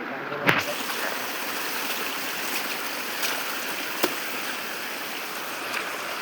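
Water flows steadily at a village spring in a forested hillside, a constant outdoor rushing wash with a couple of brief knocks, moderately loud and close, without clear talk.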